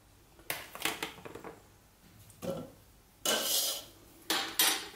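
Heaping spoonfuls of blueberries are scooped out and dropped into a container, with clinking metal spoon scrapes and rattling bursts in uneven clusters, close and fairly quiet, no talking.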